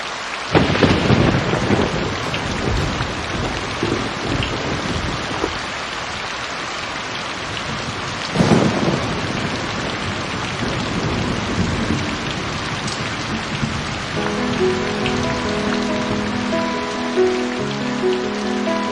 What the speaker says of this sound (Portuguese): Que chuva forte.